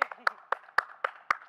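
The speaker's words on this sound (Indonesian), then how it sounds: "Kasih tepuk tangan dulu buat Reva." Applause for Reva on a podcast set: about seven sharp, evenly spaced handclaps in a quick steady rhythm, close and clear.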